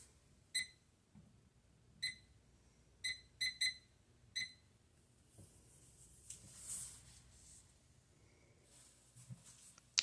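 A kitchen oven timer goes off with short, sharp high beeps in irregular bursts over the first few seconds, then stops, leaving a quiet room with faint soft handling sounds.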